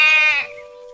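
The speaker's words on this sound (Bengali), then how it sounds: "ছাগলের ডাক আসছে।" A single goat bleat near a riverside at night: one loud, nasal, quavering call up close that trails off into a thinner held tone.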